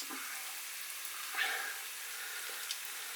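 German potato pancakes fry quietly in a pan, giving a faint, steady hiss with a few small pops and crackles. The sound stays soft and even throughout.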